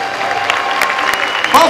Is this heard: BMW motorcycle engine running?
no